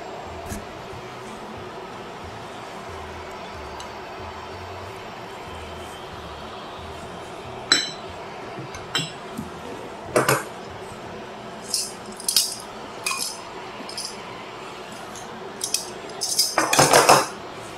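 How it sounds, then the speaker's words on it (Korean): A metal pan and utensils clink and scrape while a cream sauce with flying fish roe and parsley simmers, with scattered sharp clatters growing busier toward the end over a low steady hiss. "크림소스를 끓이면서 날치알과 파슬리를 넣어줍니다."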